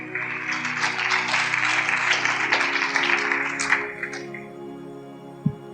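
Loud, dense clapping from a church congregation at a Punjabi sermon, a sustained wash of many hands for about four seconds before fading out, with one sharp thump near the end.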